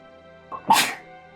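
One sharp sneeze bursts out close to the microphone after a short breathy intake, over a faint steady hum.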